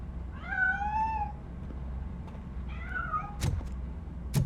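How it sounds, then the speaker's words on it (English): A cat in the video game RoboCop: Rogue City, hiding inside near a piano, gives two drawn-out meows, the second shorter, followed by two sharp clicks against quiet background hum. "That cat must be hiding inside."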